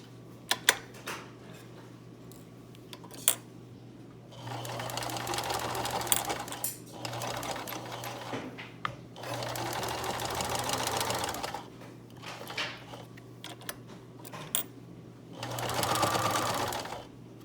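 A sewing machine stitches through bulky layers of a cloth face mask: three sustained runs of rapid mechanical whirring, loud and close, separated by quieter stretches of clicks and handling as the fabric is adjusted, with brief speech in places.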